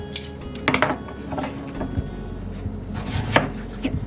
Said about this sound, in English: I'm chopping it into bite-sized pieces.